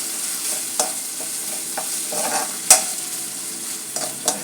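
Ginger and green chillies fry in hot oil with a soft, steady sizzle. A spoon stirs and scrapes the pan at irregular intervals.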